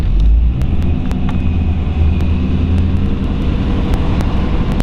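A 1938 Ford two-door bustle-back sedan with a flathead V8 and five-speed gearbox pulls away in first gear, a loud, steady low engine rumble close by with faint clicks over it.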